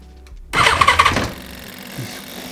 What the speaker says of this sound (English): The motorcycle just tried to start.